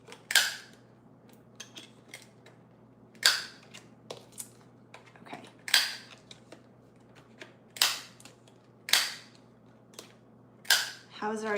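A corner punch rounds the corners of paper cards during a shop-order packing session, giving sharp clicky crunches at irregular intervals, about eight of them, close and fairly loud over a quiet room hum with no talking.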